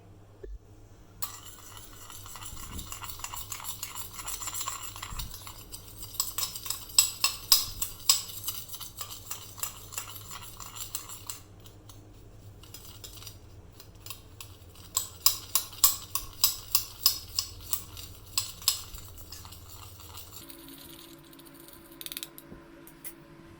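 Coffee powder, aloe vera gel and lemon juice stirred together in a bowl, giving bursts of light clinking and scraping strokes in two rhythmic runs, close and fairly faint, with no talk.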